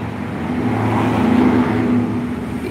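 A motorcycle engine fitted with a Honda KWN piston runs with a rough noise, a continuous close, loud rumble that swells slightly in the middle, with no talking.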